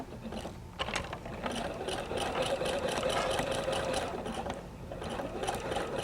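A sewing machine runs steadily as it stitches fabric, the needle's rapid mechanical chatter continuous and close for several seconds with a brief pause near the start.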